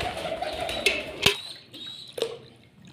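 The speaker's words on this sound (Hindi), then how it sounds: "बाकी जो कबूतर मेरे बैठे हैं, ये पांच कबूतर हैं, दो बच्चे हैं" Soft coos from five pigeons and two young ones over a busy background, with a few sharp clicks or flutters punctuating it; no one speaks.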